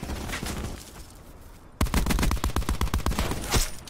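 Video game gunfire during a Gun Game match: rapid, closely spaced bursts of shots, quieter and more distant at first, then louder, punchier volleys crowding the second half.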